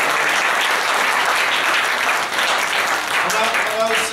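An audience at a local theatre evening in Féternes claps steadily for the event's sponsors, a dense, continuous wash of applause lasting throughout with no pauses.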